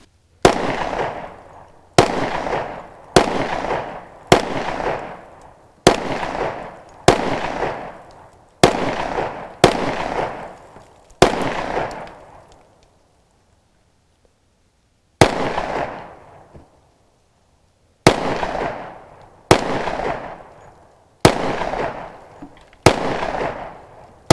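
Fifteen loud, sharp shots from a Smith & Wesson M&P 10mm pistol, fired in a steady string of nine, a pause of a few seconds, then six more, each crack followed by a short echoing tail.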